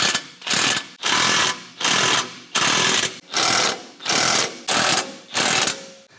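A power tool tightens the lower 17 mm OEM bolts on an Ironman 4x4 RAID front winch bumper fitted to a 2024 or later fourth-generation Toyota Tacoma. It gives about eight loud, evenly spaced rattling bursts up close, with no talk.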